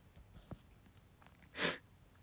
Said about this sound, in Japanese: 本当にくしゃみ出そう。